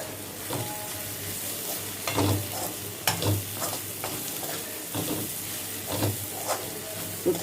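Ground peanut powder sizzles in a hot pan as it is stirred, a steady close frying hiss broken by scraping spoon strokes against the pan.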